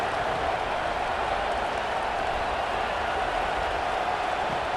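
College football stadium crowd at Ole Miss roaring on a big third down, a dense, steady wash of distant cheering and noise with no pauses.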